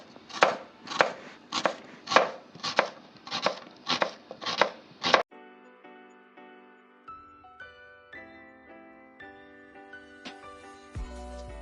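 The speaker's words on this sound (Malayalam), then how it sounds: "ആ സമയം കൊണ്ട് നമുക്ക് പച്ചമുളകും ഉള്ളിയും ഒക്കെ അരിഞ്ഞെടുക്കാം." A knife chops green chillies and onions on a board in nine sharp, evenly spaced strokes, then stops, and soft instrumental music plays alone.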